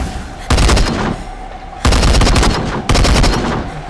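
Three loud bursts of automatic gunfire from the video game Into the Dead 2, each lasting about a second and split by short pauses, close and harsh.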